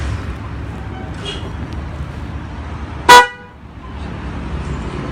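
A Denso horn fitted to a Honda Vario 110 CBS scooter gives one short, loud blast over steady road noise, then the background quiets.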